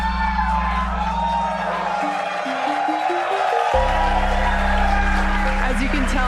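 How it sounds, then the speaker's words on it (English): A crowd at SpaceX Mission Control in Hawthorne cheers and whoops loudly and steadily throughout, layered over a constant hum and tonal beeps, with shouts rising above the roar. "As you can tell by the excitement from the crowd here at Mission Control Center in Hawthorne"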